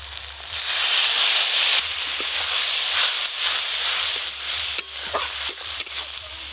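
Water poured into a pan of spice paste that has been fried thoroughly with grated tomato for a Bengali tengra fish curry, setting off a loud, sustained sizzle and hiss with a few small clatters, and no voices.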